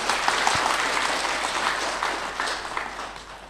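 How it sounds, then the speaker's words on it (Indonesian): Sustained applause from an audience at a religious talk in Indonesia, a dense steady wash of clapping that holds for several seconds with little variation. "Tepuk tangan dong."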